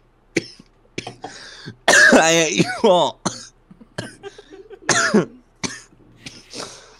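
A man coughs several times in short harsh bursts, close up, mixed in among casual chatter and talk from other people in the room.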